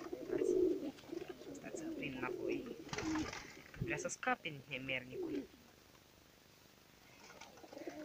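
Pigeons coo in low, throaty bursts near the start, overlapped by someone talking close, before the sound thins to quiet.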